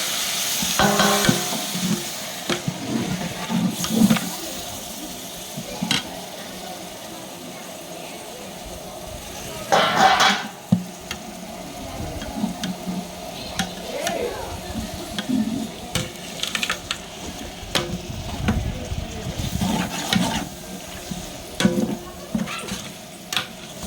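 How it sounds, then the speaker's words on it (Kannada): Tomato going into spices frying in a pan for biryani, with steady sizzling and stirring scrapes close by, a louder clatter midway, while a person talks over it. "ಇವಾಗ ಟೊಮೊಟೊ ಆ್ಯಡ್ ಮಾಡ್ತಾಯಿದ್ದೀವಿ"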